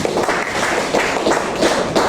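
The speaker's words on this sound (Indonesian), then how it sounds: "Tepuk tangan dulu" Classroom applause from a group of students in a teacher-training session in Banda Aceh, a steady patter of hand claps filling the room at an even level with no clear pauses.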